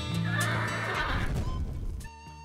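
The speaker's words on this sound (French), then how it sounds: "J'ai un cheval." A horse gives a loud, drawn-out whinny close by, trailing off, followed by a short high ringing tone, at a ski joëring outing.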